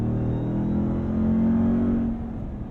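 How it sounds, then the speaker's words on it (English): A 2022 Ram TRX pickup truck accelerating hard, its engine a loud, steady low roar that swells mid-clip and then eases slightly, with no voices over it. "one of the fastest pickup trucks I've ever driven. Just brutal in the force of acceleration."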